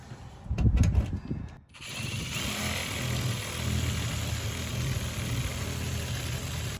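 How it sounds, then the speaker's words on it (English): Turbo shears driven by an impact gun cut metal, starting with a louder rattling burst, a short dip, then a steady grinding mechanical whir up close. "Next, what we're going to be using is our turbo shears. These go on any impact gun."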